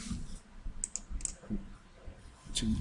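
Computer keyboard being typed on while entering a number into a program, a few soft scattered key clicks in a quiet room.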